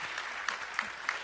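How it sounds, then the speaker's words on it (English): Short burst of audience applause in a presentation hall, steady clapping across the whole moment with a few sharper claps standing out, moderately near and no voices over it. "a round of applause to yourself"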